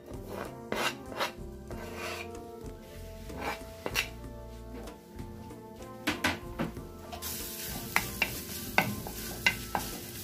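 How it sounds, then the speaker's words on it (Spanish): Garlic frying in a hot pot for rice with corn, a quiet sizzle under repeated scraping and stirring strokes of a utensil, close by, with no talk. "lo primero que vamos a poner es poner el ajito. ¿El ajo a la cacerola?"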